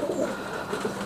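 Racing pigeons coo softly and repeatedly at a pigeon race loft, a low murmuring burble with no voices.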